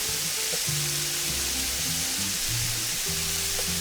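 Sliced onion fries in a pan until soft and translucent, a steady close sizzle and hiss with faint low hums from the kitchen underneath.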